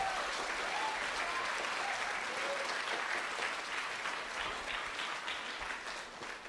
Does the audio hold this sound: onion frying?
no